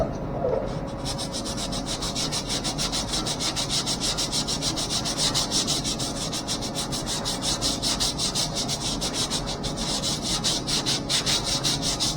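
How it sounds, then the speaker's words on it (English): Wood being sanded by hand, a steady rhythmic scrubbing of abrasive on the surface that runs close and loud without pause, with no talk. "if you're gonna sand like this"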